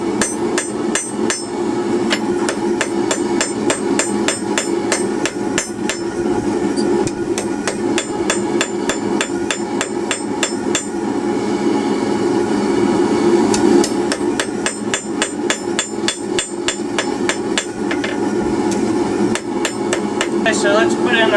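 A blacksmith hammers hot steel on an anvil, drawing out the taper of a drive hook: a long run of sharp, ringing blows in quick steady bursts, with brief pauses between strikes.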